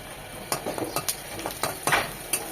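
Chopped garlic frying in oil with whole spices in a pan, a steady sizzle with several sharp scrapes and clinks of a spoon stirring, close and moderately loud, no voices.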